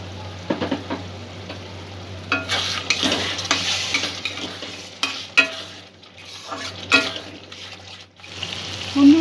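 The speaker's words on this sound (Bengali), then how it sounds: "অল্প একটু জল দিয়ে সমস্ত উপকরণগুলো একটু সেদ্ধ করে নেব।" Prawn pulao ingredients cooking in a pan with a little water added, a bubbling sizzle broken by loud stirring and scraping strokes, with no talking.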